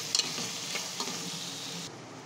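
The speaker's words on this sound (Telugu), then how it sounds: "టమాటాలు కూడా వేసుకుందాం." Tomatoes are stirred into a sizzling spicy Hyderabad chicken gravy base with curry leaves and ginger-garlic paste, giving a loud, close frying hiss with a few scraping stirs.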